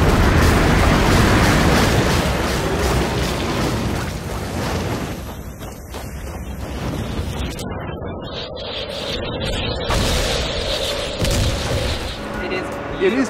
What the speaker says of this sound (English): There's a giant moth at another level that drops these like exploding eggs.